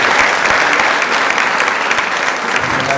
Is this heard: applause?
yes